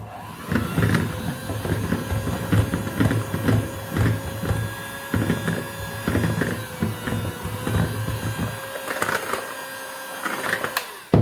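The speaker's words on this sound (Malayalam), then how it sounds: "ഒന്ന് പതിയെ ബീറ്റ് ചെയ്ത് കൊടുക്കേണ്ട കട്ടകളൊക്കെ ഒന്ന് പോകാനായിട്ട് ലോവർ സ്പീഡിലിട്ട്." An electric mixer running at low speed through Oreo cake batter, a loud steady motorized whir with grinding and knocking of the beaters against the bowl, close and unbroken for the whole stretch.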